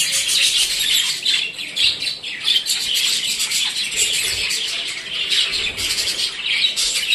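Dense, high-pitched chirping and twittering from many budgerigars about a year old, continuous and busy throughout, fairly close with no talking.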